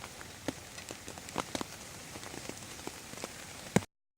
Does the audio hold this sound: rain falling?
yes